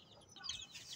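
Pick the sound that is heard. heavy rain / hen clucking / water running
hen clucking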